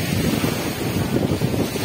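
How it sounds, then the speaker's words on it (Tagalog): Strong ocean waves roll and crash at a Boracay beach on a cool, cloudy day, a loud continuous wash of surf mixed with heavy wind buffeting the microphone. "Malakas ang alon."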